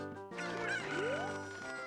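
Cuckoo chickens from Zelda: Ocarina of Time cluck in a short burst of squawky, rising fowl calls, fairly quiet over steady background game music.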